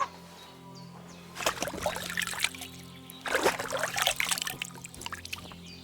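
Water splashing as a character washes up at a trough in Kingdom Come Deliverance 2: two short bursts of sloshing and trickling water, close and fairly quiet, over a soft steady background hum.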